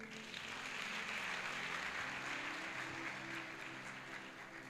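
A church congregation applauds during a worship service, sustained dense clapping filling the room at steady loudness throughout, with faint tonal hum underneath.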